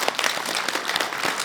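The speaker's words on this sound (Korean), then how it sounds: "박수 한번." Brief burst of audience applause at an international citizens' assembly policy forum, dense steady clapping from a seated crowd for about a second and a half with no talking.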